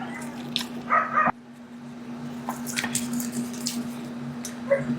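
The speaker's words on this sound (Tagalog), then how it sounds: "pasensya na sa mga aso guys na naririnig niyo yung mga asong ingay" Dogs bark in scattered bursts from a short distance, over a steady low electrical hum, with quieter rustling between the barks.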